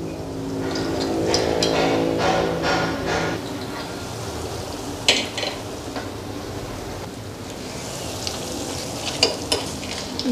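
Round corn fritters frying in hot oil in a wok, a loud continuous sizzle and bubbling with a few sharp clinks of utensils against the pan, heard alone without talk.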